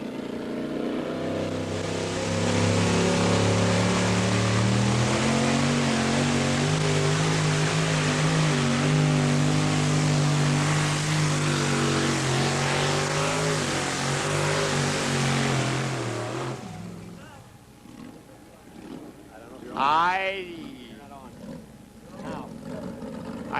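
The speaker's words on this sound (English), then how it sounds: "Jim Crabtree, 1940 Ford pickup, 540 cubic inches of Keith Black Hemi engine." A 1940 Ford pickup with a 540-cubic-inch Keith Black Hemi roars at full power during a two-wheel-drive truck pull, a loud, sustained blast for about sixteen seconds before it cuts off and leaves quieter background sounds.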